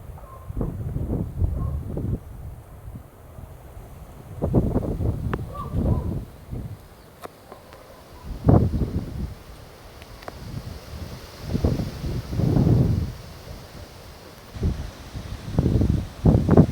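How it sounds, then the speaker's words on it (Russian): Strong wind gusting outdoors in a garden of tulips, buffeting the microphone in irregular low rumbling bursts that swell and fade, with leaves rustling between gusts. "Такой ветер."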